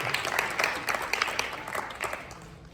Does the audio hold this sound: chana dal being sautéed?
no